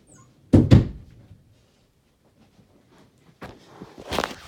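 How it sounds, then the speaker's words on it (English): Bedroom door closing with a double thump near the start, close and solid, followed by quiet and a few softer knocks and rustles. "let me just close the door first."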